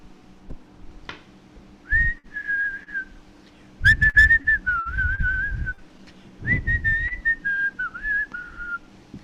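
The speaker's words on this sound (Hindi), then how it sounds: "अरे ये कौन सीटी बजा रहा है?" Someone whistles a lilting tune in three clear phrases, loud and close, with soft thuds and knocks in the background between them.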